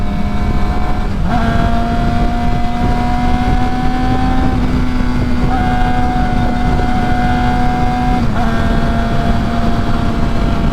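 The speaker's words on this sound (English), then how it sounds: "I'm already in 6th gear. I'm just not used to something revving this high." A super sport motorcycle engine held at high revs in sixth gear, a loud steady whine with rising pitch that dips briefly at intervals, close to the microphone with wind rush underneath.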